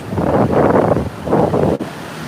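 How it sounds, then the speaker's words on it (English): Ocean surf breaks on the beach at Ponte Vedra Boulevard in northeast Florida, 3 to 4 foot waves surging in two broad washes under heavy wind buffeting the microphone, loud and close, with no talking. "But the surf is up."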